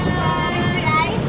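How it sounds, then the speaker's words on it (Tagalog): Steady wind roars and buffets across the microphone on a Boracay beachfront, with a low rushing background and faint water movement, loud and continuous throughout. "Grabe, ang hangin dito."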